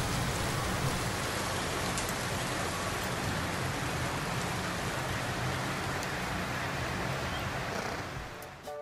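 Steady rain pours down continuously on wild macaws in Caracas, a dense hiss of drops on surfaces, with a faint vocal sound near the end.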